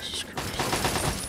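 Rapid bursts of gunfire from the Fallout 3 video game crackle loudly and densely for about a second, with several overlapping shots.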